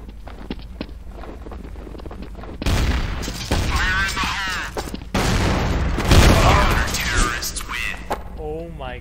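Loud gunfire and booms from a weapon in Counter-Strike: Source, several heavy bursts under excited talking, with wind-like noise throughout.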